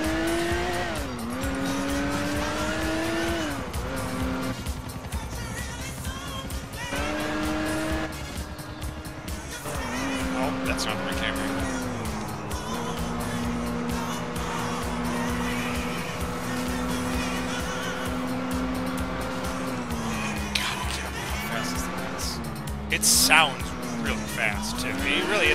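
Classic sports car with a big engine driven hard in GTA IV, its engine whining and shifting pitch up and down as it accelerates, with tires squealing through turns, under continuous talking from a man.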